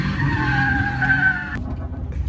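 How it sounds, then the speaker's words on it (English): A truck doing a tire burnout sends out a loud, sustained squeal of skidding tires over a rough engine rumble, then cuts off abruptly partway through, leaving only the engine growl. "Thick ass burn out though."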